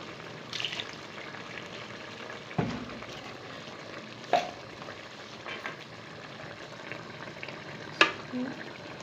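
Ground tomato paste goes into hot masala for a fish curry, giving a soft continuous sizzle and frying hiss with a few brief stirring knocks and clinks against the pan.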